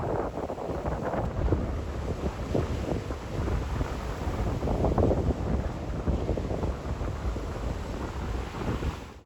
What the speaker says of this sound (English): when we arrived at Claonaig, the wind had picked up dramatically